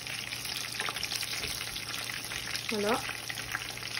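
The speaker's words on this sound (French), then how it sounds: "Donc là on les fait revenir dans l'huile" Arancini sizzling in hot oil in a pan, a steady close frying hiss with a brief clink as they are turned, and a voice speaks a single word over it.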